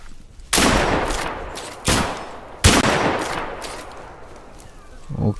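Gunfire in the survival shooter game Deadside: three separate bursts of loud shots, each with a long, fading echo tail that trails off, followed by a brief low thump at the end.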